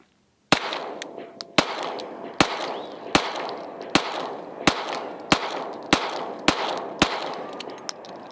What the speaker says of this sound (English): Gonna do 5 to 10 shots at 10 yards.